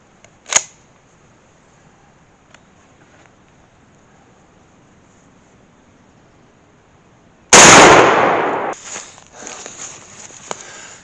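A shotgun loaded with number 4 shot fires once at a target 30 yards away from a shooting stick, a single loud close blast after a long quiet stretch, followed by ringing echoes and small clatter.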